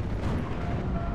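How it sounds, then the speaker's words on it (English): Anti-aircraft guns firing at a Spitfire in Steel Division: Normandy 44 make a dense, steady roar of distant gunfire and rumbling battle noise, continuous and fairly loud, with no speech. "they managed to fire at my Spitfire from that far away"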